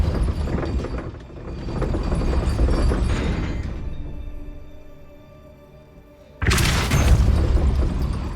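Depulso force spell cast in the Hogwarts Legacy video game on Xbox One, a loud whooshing boom that swells and fades over several seconds, then a sharp second blast near the end, with no talk.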